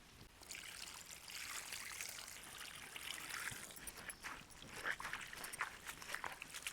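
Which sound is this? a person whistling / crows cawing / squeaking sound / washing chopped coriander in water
washing chopped coriander in water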